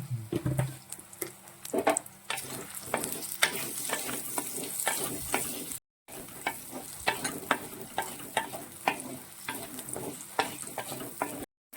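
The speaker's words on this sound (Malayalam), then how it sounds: "ഈ ഏത്തയ്ക്കയിലേക്ക് നമ്മൾ ഒരല്പം മഞ്ഞപ്പൊടിയും കൂടി ചേർത്താണ് വഴറ്റുന്നത്" Raw plantain sautés with turmeric in ghee, a close, sizzling hiss broken by frequent rhythmic stirring scrapes of a spoon against the pan, with two brief dropouts and no talking.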